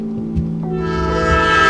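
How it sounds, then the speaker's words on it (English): A train rolls past in a Rockstar video game, a loud steady rumble with a sustained horn-like tone building over under two seconds, close by and alone without talk. "Damn these dumbass trains."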